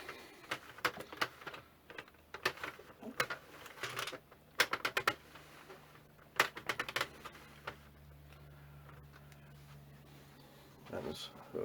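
Knitting machine carriage drawn slowly across a row, producing bursts of quick clicking and clattering with pauses between, fairly quiet and close, with a faint steady hum underneath.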